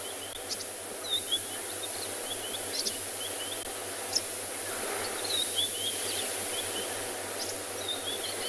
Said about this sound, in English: Nice to be listening to some bird song.